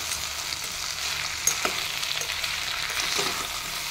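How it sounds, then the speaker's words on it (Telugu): Bottle gourd curry ingredients being mixed in a pot, a continuous close hiss of frying with a few soft scrapes of the spoon against the pot, no talking. "ఇవన్నీ మిక్స్ చేసేసి"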